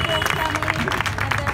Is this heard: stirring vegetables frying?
no